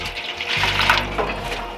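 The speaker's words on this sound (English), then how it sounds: "I'm going to add a little water to this." Water is poured into the water pan of a Blaze Kamado grill, a short, close gurgling splash that runs steadily for about a second and a half.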